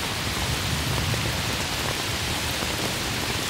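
Rain falls steadily outdoors at night, a constant close hiss and patter of drops on the ground, unbroken and without voices.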